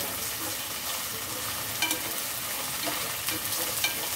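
Ingredients for chicken biryani fry in a pan with a steady, dense sizzle, stirred occasionally so that brief scraping accents rise above the crackle.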